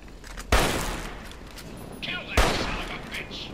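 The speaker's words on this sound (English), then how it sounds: "start shooting him with a hunting rifle" Two loud hunting-rifle gunshots ring out in the video game Fallout 3, each a sharp blast with a trailing echo, spaced about two seconds apart, with faint game ambience between them.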